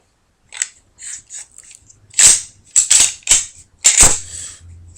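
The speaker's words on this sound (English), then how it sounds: "you just pull those two down and you dismantle your gun" Beretta PX4 Storm pistol being taken apart by pulling down its takedown levers, a series of sharp metallic clicks and snaps up close, irregular and separated by short pauses.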